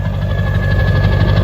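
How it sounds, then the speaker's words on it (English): A turbocharged engine on a SuperCub aircraft at a grass strip runs steadily and loud, a dense low rumble with a constant whine above it, no talk over it. "Oh, listen to that turbo."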